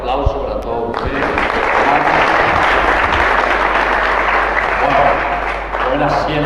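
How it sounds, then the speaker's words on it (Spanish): A congregation at a Catholic mass in the Chapel of San Roque, San Lorenzo, breaks into loud, sustained applause that fills the room, with a low hum underneath and some voices mixed in. "Fuerte aplauso para todos ustedes."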